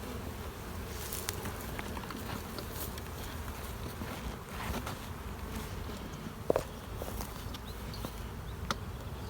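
Honey bees buzz steadily at an open hive during spring colony management, a dense continuous drone close by with a few faint knocks and no speech.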